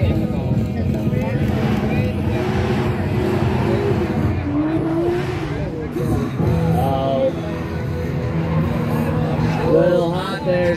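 A naturally aspirated 1JZ-powered Lexus IS300 drift car runs at a Drift Indy competition, its engine revving hard and rising in pitch with tire squeal, while a commentator talks over it.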